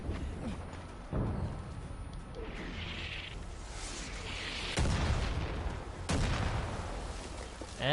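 Mortar shells firing and exploding in Far Cry 5, several heavy booms with rushing whooshes spaced a second or two apart, loud and close amid battle noise.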